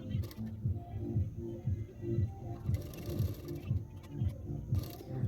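A sewing machine stitches the lining and main fabric of a princess-cut blouse together along the edges, a steady rapid mechanical clatter in repeating bursts with short pauses between runs.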